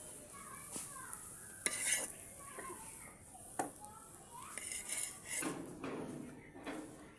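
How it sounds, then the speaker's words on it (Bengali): Eggplant slices frying in a pan and being lifted out, faint sizzling under intermittent scrapes and clinks of a spatula and utensils, with background voices at times. "বেগুনগুলো আবারও ভেজে নিব। বন্ধুরা, আমার বেগুন ভাজা হয়ে গিয়েছে, আমি এবার নামিয়ে নিচ্ছি।"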